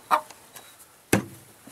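A chicken in a coop gives two sharp, close clucks about a second apart, with a few fainter soft notes in between against a quiet background.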